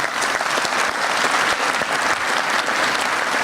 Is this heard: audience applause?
yes